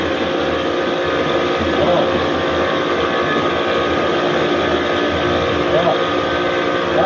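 A pressure washer motor runs and sprays a water jet in a loud, constant, dense roar and hiss that holds without a break throughout.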